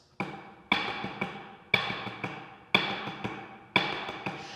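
Isolated snare drum strokes from a single floating hand in the A section of a drum line snare part, five accented hits roughly evenly spaced, each followed by softer taps that fall back to a quiet level, played close and alone.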